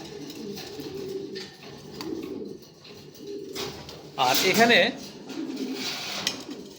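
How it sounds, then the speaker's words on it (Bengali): Racing pigeons coo in low, repeated throaty rolls close by, with someone talking over and between the calls and a brief burst of louder fluttering or handling noise midway. "কবুতরগুলো দেখতেও কিন্তু অনেক সুন্দর"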